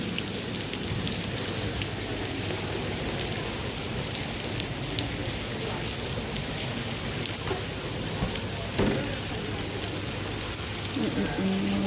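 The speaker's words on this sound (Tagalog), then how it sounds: "Konting ulan yan, bumabaha na." Steady rain falls in Cyprus, a dense, continuous patter of drops on surfaces that holds at an even, fairly loud level throughout, with a faint low hum underneath.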